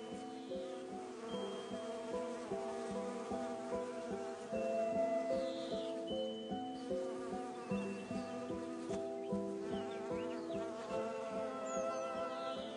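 Bees buzz among spring flowers in a steady, fairly quiet drone of overlapping wingbeats that rises and falls slightly as insects move about, with no voices.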